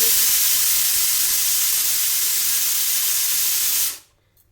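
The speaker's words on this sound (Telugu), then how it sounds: "పన్నీర్ పీసెస్ మనం వేయించేటప్పుడు జస్ట్ సౌండ్ వస్తుంది చూడండి" Paneer pieces frying in a hot pan give a loud, steady broadband hiss and sizzle that holds evenly for about four seconds, then cuts off abruptly into near silence.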